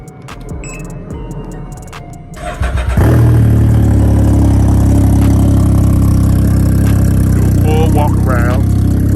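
A Can-Am Ryker 900 Ace three-wheeler cranks over briefly and catches, then settles into a loud, steady idle close by, with a little talk audible before the start.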